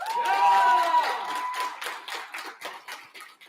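An audience at LibertyCon International 2022 claps for a debate motion on continued U.S. support for NATO, a short burst of crowd applause that swells quickly and then thins into scattered claps.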